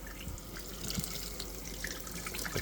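Hot water runs steadily from a tap into the sink of a Jayco Swan camper trailer, a soft continuous hiss and splash with faint drips, quiet and even throughout.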